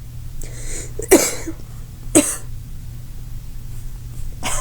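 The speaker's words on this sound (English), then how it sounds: "we both cough" Two sharp, close coughs about a second apart, over a low steady hum, with faint breathing around them.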